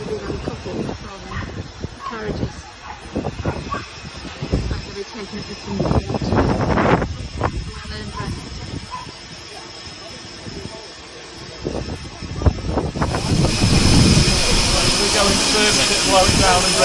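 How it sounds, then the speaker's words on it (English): Steam locomotive Harbour Master, uncoupled at the station and heading to the engine shed on a wet day, gives off hissing steam and chuffing bursts amid station noise, growing to a loud sustained hiss near the end. "They've uncoupled our engine, Harbour Master, and I think she's going down to the engine shed"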